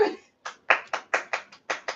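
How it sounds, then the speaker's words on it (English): Crisp hand claps, about eight distinct sharp claps in an uneven rhythm, close and dry with silence between them, during a home livestream check-in. "Clap, clap, clap, clap, clap."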